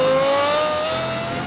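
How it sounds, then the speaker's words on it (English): A race car accelerates hard on track through turn 11, a steady loud engine drone with a rising whine as it short shifts into third, the pitch climbing smoothly over a second and a half. "Short shifting into third as we come through turn 11"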